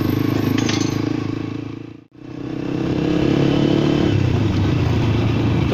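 A motorcycle rides along with a steady engine drone and road rumble, which briefly cuts out to a sudden dip before the engine sound swells back and carries on loud and close.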